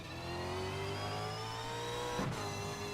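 A race car engine holds a steady, droning pitch, with one sharp pass-by swell near the end, heard at a distance at the Symmons Plains circuit during a Super 2 round. No one speaks.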